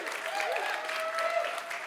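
Audience applause at a Sundance Film Festival event, steady and fairly full throughout, with a voice carrying faintly over the clapping.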